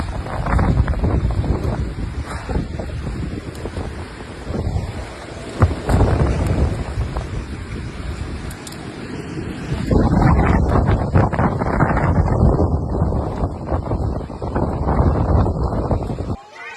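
Strong, gusty typhoon wind in Cebu, Philippines buffets the microphone in a continuous roar, surging louder partway through, with a rushing, surf-like texture.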